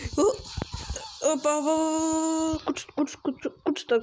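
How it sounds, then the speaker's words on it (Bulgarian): Dogs whimper and yip during a video game boss fight, with a long sustained whining tone in the middle and short yelps after it, set among a player's speech. "Кучетата."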